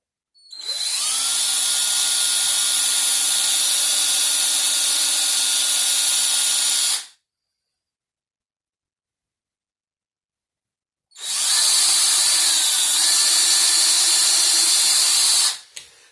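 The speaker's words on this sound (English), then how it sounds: "let's see if we can get these drilled." Power drill boring holes into a guitar body for a Bigsby B7 vibrato install, two long high-pitched whining runs of several seconds each separated by silence, close and loud.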